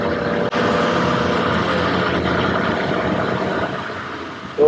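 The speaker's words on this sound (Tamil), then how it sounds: "ஃபுல் ஆக்சிலரேட்டர்ல இருக்கேன்." Mahindra XUV 3XO SUV accelerating hard at full throttle on a proving track, with a steady, loud engine roar and road drone inside the cabin, no voices.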